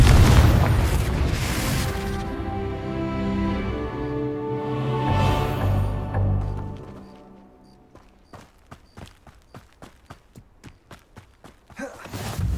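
Confringo blasting spell from Hogwarts Legacy gameplay, a loud booming explosion with a long rumbling decay, followed by a quieter stretch of rhythmic footsteps.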